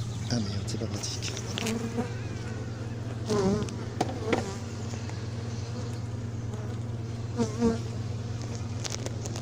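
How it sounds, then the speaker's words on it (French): Honeybees on hive frames at an apiary in Montgeron buzz in a steady, close, continuous drone, with individual bees swelling louder as they pass near, alongside a few soft handling knocks. "il y a pas mal d'abeilles sur les rayons"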